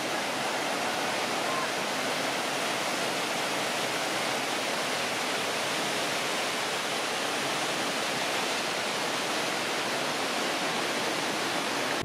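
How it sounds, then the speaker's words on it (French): Kegon waterfall in Nikko pours in a constant, dense roar of falling water, a loud, even wash of noise that stays unchanged for the whole stretch with no other sounds standing out. "la cascade la plus connue de Nikko, qui s'appelle Kegon, et qui était impressionnante par sa taille et par son bruit"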